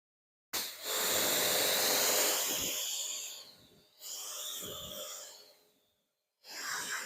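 A car is rinsed off with water after a soap wash: loud, close hissing spray in three bursts, the first long and the others shorter, with silent gaps between.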